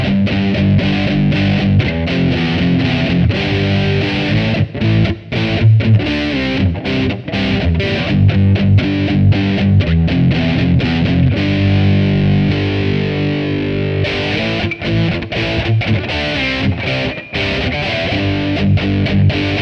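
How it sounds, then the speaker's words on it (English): A Glarry GTL electric guitar with a maple neck playing heavily distorted power chords, loud and close, with chugging strummed chords, brief stops between phrases and sustained ringing notes. "let's see how it copes with some dirty power chord type sounds."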